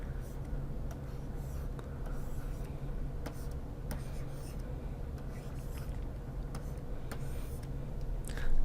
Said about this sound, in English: then write 135 directly below it